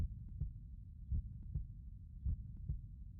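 A heartbeat thuds in a visual novel game, soft and muffled, with paired lub-dub beats repeating at a steady resting pace.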